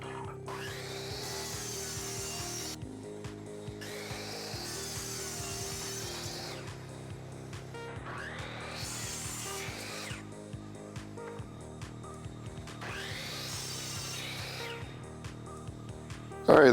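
A wooden piece for a homemade ping pong table is chamfered by hand in four long, steady rasping strokes with short pauses between them, close and moderately loud, over a faint hum.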